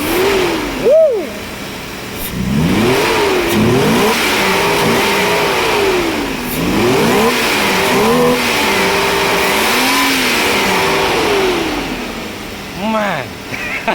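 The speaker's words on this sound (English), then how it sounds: "So if I rev with sport E, let me see." A Mercedes W124 300E with a 3-liter M103 inline-six, set to sport mode, is revved repeatedly, its pitch climbing and falling in loud swells over a steady idle, with brief voices in between.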